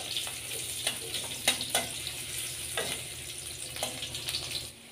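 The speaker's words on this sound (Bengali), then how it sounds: "দেব একটা পেঁয়াজ কুচি, পেঁয়াজ ভালোভাবে ভেজে নেব।" Chopped onion fries in mustard oil in a wok, a close continuous sizzle with repeated scraping and stirring clatters of a spatula before the sound drops off at the end.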